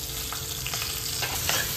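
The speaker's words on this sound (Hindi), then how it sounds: "राई, कड़ी पत्ता क्योंकि गीला है थोड़ा उछलेगा" Mustard seeds, curry leaves and finely chopped garlic fry in hot oil for a vada pav spice base, giving a steady, close sizzle with scattered sharp pops and crackles and no voices.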